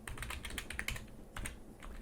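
A file name is typed on a computer keyboard in a quick run of close, crisp key clicks with a short pause partway through, and no voice.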